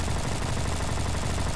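Rapid automatic fire from a G18 pistol in the video game Bad Business, a dense continuous burst of gunshots that fills the whole moment at steady, fairly loud level with no pauses.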